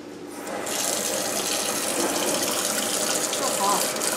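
Tap water gushes steadily into a cooking pan in a home kitchen, a continuous bright rushing hiss that starts abruptly and runs without break.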